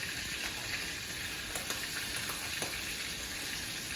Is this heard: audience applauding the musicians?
no